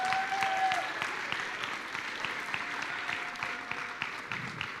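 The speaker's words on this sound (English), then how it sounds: "A round of applause to all the teachers who are here with us." Round of applause for the teachers at a school event, a room full of people clapping steadily at moderate volume and gradually thinning toward the end, with a faint tone briefly audible at the start.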